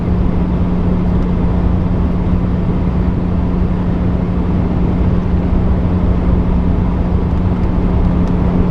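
Loud, constant low exhaust drone from a highly modified Mazda Miata ND sports car, roof down, a steady rumbling tone holding throughout without a break.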